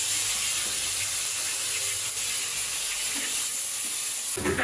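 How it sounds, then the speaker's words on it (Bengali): Fish frying in a pan, a steady close sizzling hiss that holds level throughout, with a brief clatter near the end. "বাকি মাছগুলো এইভাবে ভেজে নিব।"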